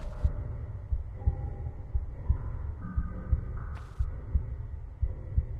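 Steady rhythmic heartbeat thuds throb in the Atlantean level of Tomb Raider (1996), a low regular pulse under a dark droning ambient hum, with no talking.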